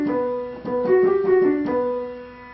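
A short piano phrase, a pickup leading into a first measure with a dotted eighth on B, plays as a few sustained, gently overlapping notes, close and clear with no talking.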